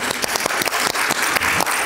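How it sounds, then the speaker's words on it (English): An audience applauds veterans and service members, a dense, loud, continuous patter of many hands clapping close by, holding steady for nearly two seconds. "let's give these brave people a round of applause and appreciation for their service to our country"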